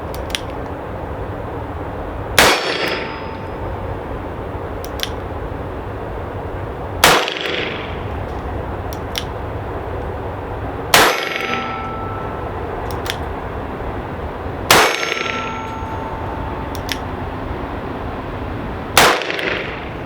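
Ruger Super Redhawk .44 Magnum revolver fired one-handed outdoors, five loud, sharp shots spaced about four seconds apart, each with a short echoing tail.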